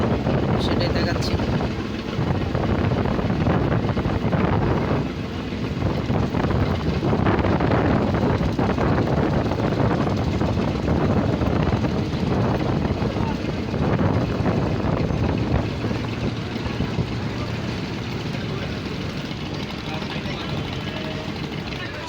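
A passenger launch leaving Dhaka Sadarghat on the river toward Fatullah gives a continuous loud engine drone and churning water rush, mixed with wind buffeting the microphone and a voice talking over it.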